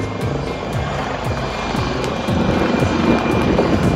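An Indian-built HAL light combat helicopter roars close by during a flying display, its rotor chopping in a steady rhythm under loud engine noise that swells slightly toward the end.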